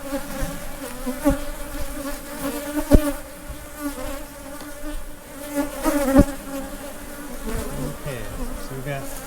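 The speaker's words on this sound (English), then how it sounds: "Lots of bees here." Honeybees hum in a dense, continuous buzz around an open hive during an inspection, with individual bees swelling louder as they fly close past, sustained throughout with no voices.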